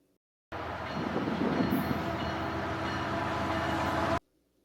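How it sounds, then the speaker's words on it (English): A train rolls along railroad tracks, a steady broad rumble that holds for several seconds and then cuts off abruptly, fairly loud and close with no voices. "I looked down the tracks and I noticed that a train was coming right as soon as I had just made it over"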